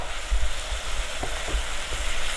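Bitter gourd and dried shark fry in oil in a pan, giving a steady close sizzle with a few soft knocks of stirring.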